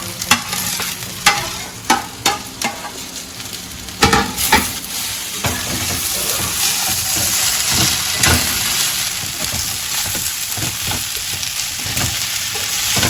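Okra being stir-fried in a pan of hot oil for a crispy wedding-style fry: repeated scraping stirs and clatters over the first few seconds, then a steady, loud sizzling hiss with occasional spatula knocks, no voices.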